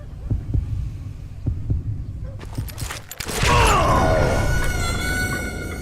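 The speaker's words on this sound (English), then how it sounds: "When you hear the heartbeat, you can draw your weapon first" In the Western shooter game Call of Juarez: Gunslinger, a slow thudding heartbeat pulses several times, followed by a sudden burst of gunfire and a rising tonal swell that lingers as a sustained hum.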